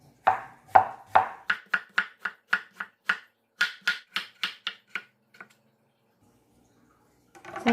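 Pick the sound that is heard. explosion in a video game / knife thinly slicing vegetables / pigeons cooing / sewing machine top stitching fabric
knife thinly slicing vegetables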